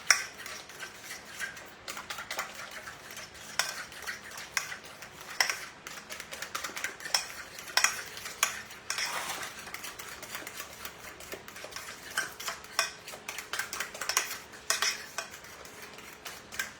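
A utensil beats batter in a bowl by hand in place of a whisk, producing rapid, steady clicking and scraping taps against the bowl that keep going close up throughout, no talk.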